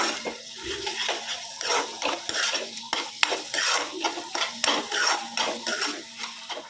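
Chicken chukka being sautéed with spice masala in a kadai: close, busy stirring with a spoon scraping and clinking on the pan in bursts over a soft, steady sizzle, and no voices.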